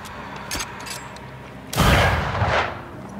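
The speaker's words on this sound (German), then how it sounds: "Ja, die Kanone hat schon Krach." A cannon fires in the video game Banishers: Ghosts of New Eden with a single loud, booming blast that rolls out and decays over about a second, following a quiet stretch with faint background tones.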